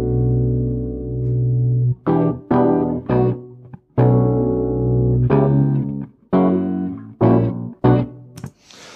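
Opening loop of a music session played back in Ardour: a close, steady electronic phrase of sustained tonal notes broken by short rhythmic hits and pauses, heard alone with no talking.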